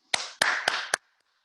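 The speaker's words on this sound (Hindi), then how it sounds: "बहुत बहुत तालियां." Four sharp, evenly spaced hand claps ring out at close range, then stop abruptly into silence.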